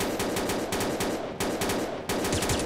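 Rapid automatic gunfire from the first-person shooter Combat Arms, dense bursts running almost continuously with brief gaps, loud and close, no talking.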